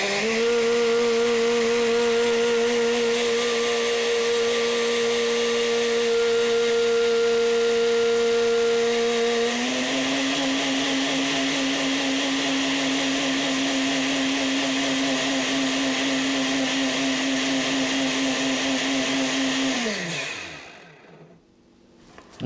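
A blender runs continuously at high speed while emulsifying a vinaigrette, a loud steady whine that steps up in pitch partway through and then winds down and stops near the end.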